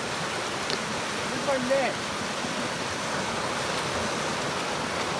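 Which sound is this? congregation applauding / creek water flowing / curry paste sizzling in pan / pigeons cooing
creek water flowing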